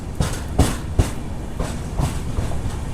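The Charminar SF Express rolls along between Chennai and Hyderabad, its wheels giving a steady clickety-clack of rhythmic thumps over a continuous rumble, heard from on board without talking.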